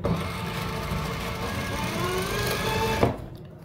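A sewing machine stitching elastic, running in one steady, close, continuous whir for about three seconds before stopping abruptly.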